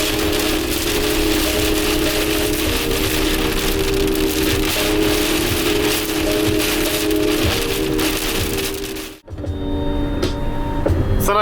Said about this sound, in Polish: a tu non-stop pada